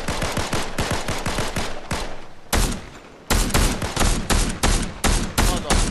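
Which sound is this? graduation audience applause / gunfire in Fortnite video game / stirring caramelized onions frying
gunfire in Fortnite video game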